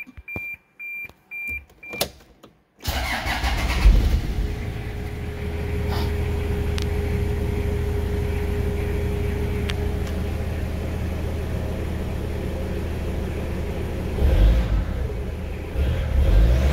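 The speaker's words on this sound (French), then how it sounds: "le son du moteur, qui est vraiment pas désagréable." A 1996 Toyota Hiace Grand Cabin engine runs at a steady, low idle heard from close by, a continuous smooth rumble after a few short beeps and clicks at the start.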